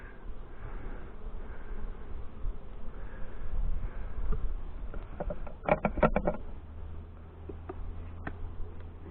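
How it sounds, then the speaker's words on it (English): Honey bees crowd the top of an opened hive box during mite strip removal, a steady low buzzing hum close up, broken midway by a cluster of sharp knocks and scrapes from handling the box. "look at the concentration of bees on the top of this box"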